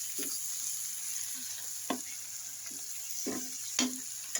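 Raw green mango pickle being stirred in a pan, with a few scattered scraping and clacking strokes of a spoon over a steady soft hiss, no voices.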